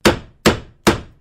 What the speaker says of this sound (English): There's nothing better than the sound of a hammer,